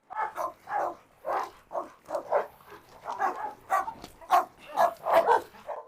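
Farm dogs bark at newly arrived sheep in a rapid, irregular volley of close, loud barks and yips that carries on without pause.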